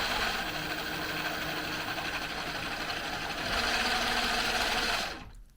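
A salvaged Hangkai electric outboard motor runs for a few seconds with a steady, dense buzzing whine that rises slightly in intensity before cutting off abruptly.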